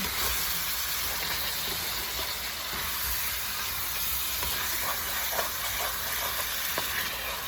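Lamb shank pan being deglazed with alcohol, a steady loud sizzle and steamy hiss throughout with occasional scraping and stirring clicks.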